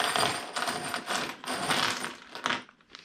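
Metal bolts from the supplied hardware kit for an MSD intake manifold install on an LS engine clink and rattle as they are handled up close, in a series of quick jingling bursts.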